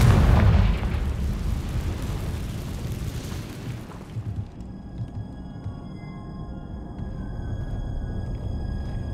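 Confringo fire spell bursting in Hogwarts Legacy: a loud, rumbling explosion opens the clip, then decays into a low roar with faint tonal game ambience and no talk.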